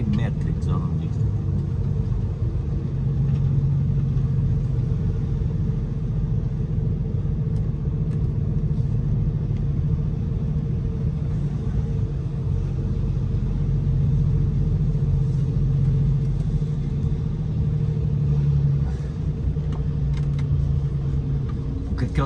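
A motorhome engine rumbles low and steady throughout while the vehicle parks beside a car transporter truck from a Portuguese company, a constant close drone without pauses.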